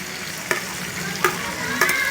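Chopped tomatoes stirred into bagoong sizzling in a hot pan, a steady frying hiss with three sharp scraping clinks of a spoon against the pan at regular intervals.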